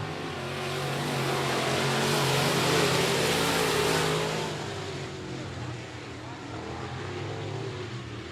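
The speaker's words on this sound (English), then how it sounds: "Revving up the engines." Late-model race cars rev their engines at a speedway, a dense continuous roar that swells and then eases, heard from a distance as a broad wash of engine noise.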